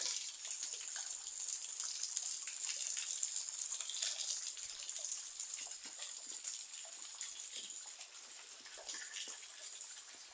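Cold water flows and gushes steadily through a shallow cave beside a jungle waterfall, a continuous bright splashing rush that stays close and fairly loud for the whole stretch, with no talking.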